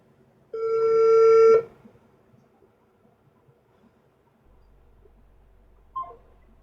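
An electronic telephone ring sounds once as a steady tonal burst about a second long and is left unanswered, followed by near silence with a faint low hum and one short chirp.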